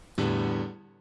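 A six-string guitar in standard E A D G B E tuning is strummed once on its open strings, a sudden close chord that rings and then fades out.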